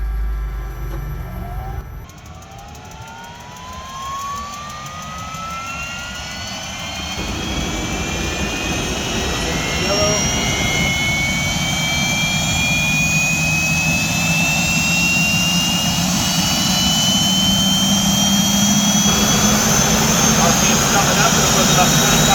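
A military Aérospatiale Gazelle SA342M helicopter turbine spools up at start, a rising whine climbing steadily in pitch over a loud broad roar, close and continuous for the whole stretch.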